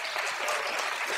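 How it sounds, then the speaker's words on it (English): An audience at a Z-Day 2012 talk bursts into brief, dense clapping that fills the moment evenly. "Round of applause, please."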